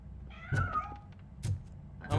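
A cat meows three times in the video game Robocop: Rogue City, each call short and fairly close, spaced about a second apart over low background rumble and faint game noise.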